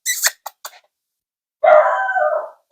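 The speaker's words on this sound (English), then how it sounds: "Can you hear my dog just barking?" A small dog at home barks a few quick sharp yaps, then lets out one longer, rougher bark-howl, close and loud, with no talking.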